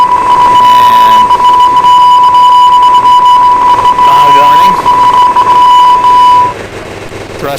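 A steady, loud electronic fire warning tone sounds in the Cessna Citation X cockpit in the FSX flight simulator, running continuously for about six and a half seconds before cutting off.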